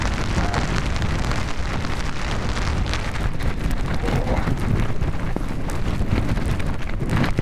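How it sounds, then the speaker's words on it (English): Strong wind buffets the microphone in a continuous, loud roar on an exposed volcanic mountain in New Zealand during light rain, with no voices over it. "Windy up here."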